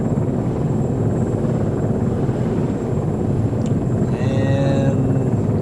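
A helicopter in the military video game ArmA 3, its engine and rotor forming a loud, continuous low drone with a few faint higher tones near the end.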